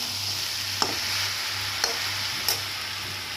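Mourala fish frying in a pan for a stalk chorchori: a constant bright sizzle with three brief sharp clinks of the stirring spoon against the pan.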